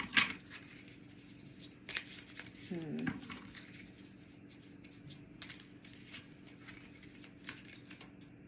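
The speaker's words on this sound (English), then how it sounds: "I'm going to pull one more card for you." Tarot cards are handled and pulled during a reading, with brief papery flicks and riffles near the start and around the middle, set against a quiet room and faint background noise.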